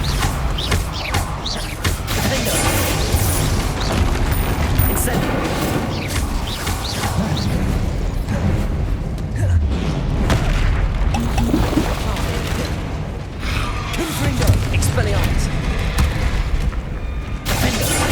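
Loud, dense barrage of Incendio fire-spell blasts and crashing impacts in Hogwarts Legacy combat, booming bursts layered over a continuous roar that stays heavy for the whole stretch.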